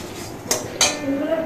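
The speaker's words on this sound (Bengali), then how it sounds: "তো এগুলোকে দেখো আমি শুকনো কড়াই একটু নেড়ে নেবো।" Cardamom, cloves and cinnamon dry-roasted in an empty wok, stirred with a metal utensil that scrapes and clinks twice sharply against the pan, close and fairly loud.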